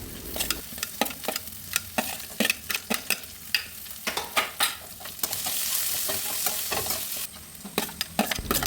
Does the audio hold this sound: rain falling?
no